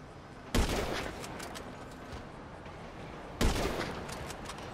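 Gunfire in GTA 5 Online: two sharp, loud shots about three seconds apart, each followed by a ringing, noisy tail over a steady background of game sound.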